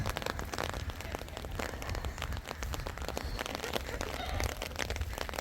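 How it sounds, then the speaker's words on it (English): Steady rain falls on a farm on a wet day, a dense, even patter of drops that continues without a break, with no talking. "It is raining."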